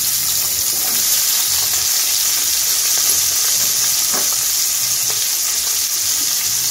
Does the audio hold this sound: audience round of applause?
no